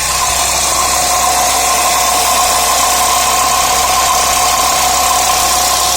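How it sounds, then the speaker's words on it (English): Close, loud and steady idle of an Audi S4 3.0 V6 supercharged engine with a failed water pump, a constant mechanical whir carrying a faint rattle throughout. "I don't know if you'll hear it on the camera, but there's a little rattle noise."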